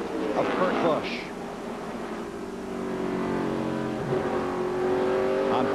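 NASCAR stock car engines drone loudly and steadily at the 2005 Sylvania 300, rising in pitch as a car pulls back onto the track, while a broadcast commentator talks over the roar.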